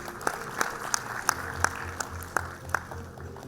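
A crowd applauds at the Innovatus Campus 2024 graduation ceremony after a graduate's name is called, with steady massed clapping and a few distinct sharp claps close by, over a low hum from the hall.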